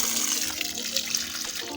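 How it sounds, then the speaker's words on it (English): Water running steadily through a pipe from a rain catchment, a continuous moderate hissing gush with faint gurgles, with no voices. "I run out some water out there first, and then I pull it here and I run it through."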